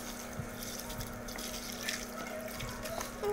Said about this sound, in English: I'm just going to add some spring water.